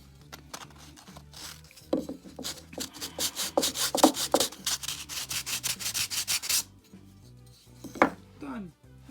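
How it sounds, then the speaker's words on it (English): Power sander working the corners of small wooden place card holders, a run of rapid rough rasping bursts close by, then brief scraping and handling noises afterward. "I basically just hit the corners just a little bit with the sander"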